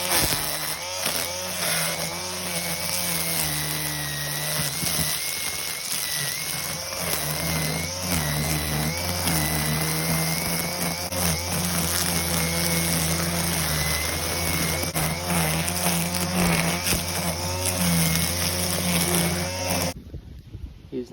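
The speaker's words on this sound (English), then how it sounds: "it's an electric motor spinning a twine around that basically makes a high noise" A Makita DUR189RM electric string trimmer spins its line with a loud, steady motor whine for about twenty seconds, then cuts out abruptly.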